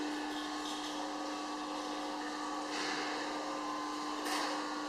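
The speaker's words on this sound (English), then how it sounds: "I will open the homogenizer." A VME 100L vacuum emulsifying homogenizer mixer runs with a steady mechanical whine and broadband hum, holding an even level throughout, with a couple of slight swells in the noise and no talking.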